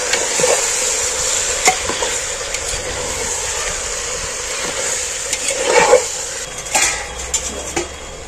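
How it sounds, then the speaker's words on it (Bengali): Mutton being stirred in a pot with ginger paste and coriander powder, giving steady scraping and clinking of a spoon against the metal pot over a soft sizzle, with a few sharper knocks. "আমি ভালো করে নাড়াচাড়া করে দিচ্ছি।"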